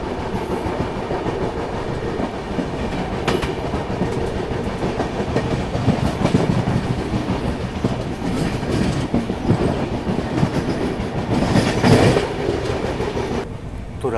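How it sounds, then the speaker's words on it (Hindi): The Maharashtra Sampark Kranti Express running at a good speed along the rails at night, giving a steady rolling rumble with rhythmic clickety-clack of wheels over joints, sustained and fairly loud. "अच्छी खासी रफ्तार में ट्रेन जो वो चल रही है"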